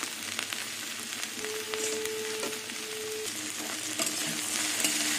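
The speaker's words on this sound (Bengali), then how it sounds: "এইভাবেই আমি ছড়িয়ে ছড়িয়ে ঢ্যাঁড়স আলুটা ভেজে নেব ভালো করে।" Sliced okra and potato fry in oil in a pan, sizzling and crackling steadily at close range while being stirred and spread, with occasional scrapes and clinks of the utensil.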